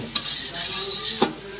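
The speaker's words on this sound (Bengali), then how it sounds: "মশলাটা একটু ভালোভাবে কষানো হোক" Masala is sautéed in a pan, with a soft, steady sizzle and two sharp spatula scrapes or clinks against the metal, close and clear.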